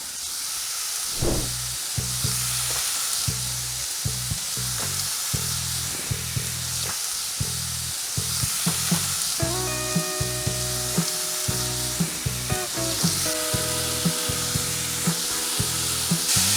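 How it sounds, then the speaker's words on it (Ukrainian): Steady, loud sizzling crackles from chicken frying in oil in a single layer in a hot pan, with occasional clinks of a utensil and a faint background hum. "приступаємо до обсмаження курятини"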